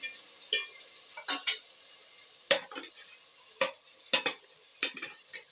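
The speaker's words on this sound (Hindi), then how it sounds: "मसाला डालने के बाद इसको ज़रा अच्छी तरह भून लूँगी ताकि मसाला कच्चापना ना रहे।" Spices being stir-fried with browned onions in a pot for beef nihari: a soft, steady sizzle underlies sharp, irregular spoon scrapes and clinks, about a dozen close strokes spaced unevenly.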